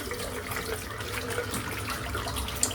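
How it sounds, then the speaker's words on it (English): Tap water runs steadily while a shaving brush is rinsed beneath it, a close, continuous splashing hiss with small shifts in the flow. "So I'm just going to rinse the brush out."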